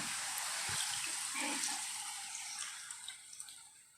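Water being poured into a bowl of rice flakes to soak them for a no-cook yogurt rice, giving a steady close splashing and trickling wash that tapers off into a few drips.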